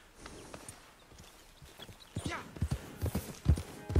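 Rhythmic horse hooves clip-clop on a hard surface in Red Dead Online, growing louder and closer toward the end, with a faint background of game ambience.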